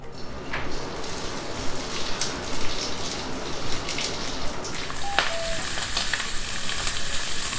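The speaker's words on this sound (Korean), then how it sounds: "삼겹살 껍질 부분이 먼저 닿게끔 구워줄 거예요" Pork belly laid skin-side down in a spoonful of cooking oil, frying with a loud, dense, continuous crackling sizzle and occasional sharp pops and spatters throughout, no talking.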